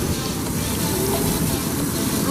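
Water runs and splashes steadily at an outdoor beach shower, rinsing sand off feet, a continuous broadband gush that stays even and close throughout.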